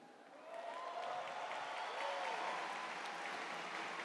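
A church audience applauds during a Catholic priest's sermon at Canção Nova, a distant, steady wash of clapping that swells after a brief quieter start and holds evenly.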